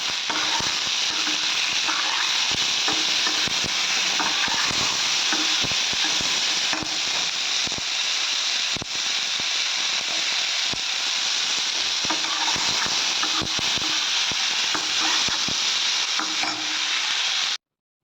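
Tomatoes fry and hiss steadily in a pan, with frequent sharp scrapes and clicks from a spatula stirring them close up, a constant sizzle running evenly the whole time.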